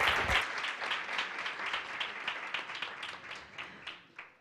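An audience at an innovation competition applauds a finalist with steady, dense clapping that carries on for several seconds and slowly thins toward the end.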